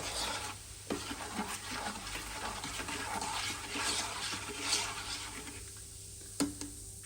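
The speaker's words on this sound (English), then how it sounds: "you want to give it a mix so that the sugar and the Coke are combined" Sugar stirred into cola inside a slow cooker for a gammon recipe, a steady scraping and swirling rub with fizzing liquid, a couple of sharp knocks against the pot, no talk.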